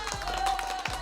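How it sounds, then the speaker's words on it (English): Hands clap a few times at an excited indoor gathering, the sharp claps a little muffled and blended with crowd noise in a room. "I gotta clap again, y'all."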